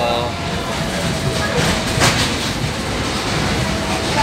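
SE3 passenger train running on rails, a continuous loud rumble and rattle of carriages with a brief louder burst of wheel noise midway.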